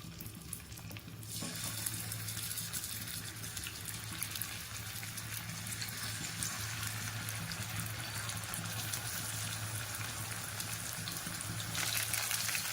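Chicken pieces frying in hot oil in a home kitchen, a steady loud sizzle and crackle that starts abruptly as the pieces go in and continues unbroken.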